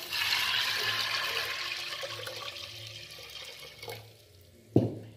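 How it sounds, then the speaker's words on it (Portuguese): Water is poured into a cooking pot holding washed coroado rajado beans. A steady rushing pour gradually thins out over a few seconds and ends with a sharp metallic clank of the pot. "E agora eu vou colocar água."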